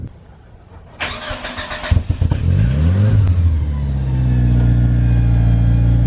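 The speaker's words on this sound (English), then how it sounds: "Let's get a cold start here." A Mitsubishi Eclipse GSX with about 70,000 original miles cold-starts loudly: the starter cranks briefly, the engine catches with a sharp rev, then it settles into a steady, close idle with no talk.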